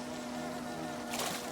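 Bees buzzing in the video game Hollow Knight, a steady, droning hum that holds evenly over the short span, with a brief brighter flutter near the end and no talking.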